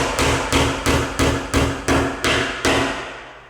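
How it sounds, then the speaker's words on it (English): Hammer drives nails into bare timber in a rental house, eight loud evenly spaced blows close by with no talk. "I've still got to put a couple of nails in the top there."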